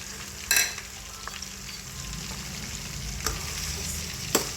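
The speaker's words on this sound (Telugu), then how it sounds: "ఇలా ఇలా టెన్ మినిట్స్ ఇలా ఫ్రై చేయాలి" Onions and green chillies fry in hot oil in a pan, a steady broadband sizzle running throughout with a few sharp clinks and scrapes of a spoon against the pan.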